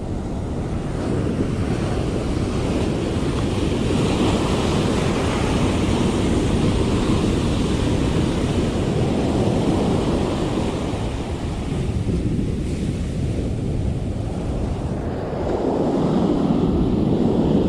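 Steady, blustery wind buffets the microphone over a continuous wash of ocean surf on the California coast, loud and constant throughout with no voices.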